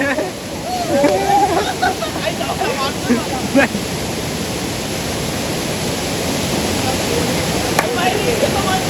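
A waterfall and a rushing river crossing at God's Valley in Maharashtra pour out a steady, close, full roar of water for the whole stretch, with brief voices just audible early on.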